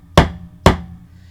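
A deadblow mallet flattens a metal jump ring with two sharp, loud strikes about half a second apart, each decaying quickly, with no voices.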